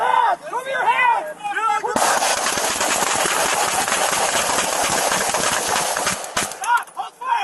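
An exchange of gunfire breaks out as deputies shoot an arson suspect on a lawnmower outdoors. A rapid, loud volley of shots lasts several seconds, and shouting voices come before and after it.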